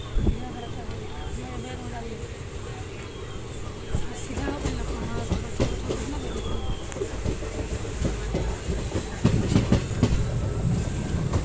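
The 13106 Ballia Sealdah Express runs on rails near Chhapra Junction, a steady rumble with rhythmic clickety-clack of wheels over joints, heard from inside the train with muffled voices in the background.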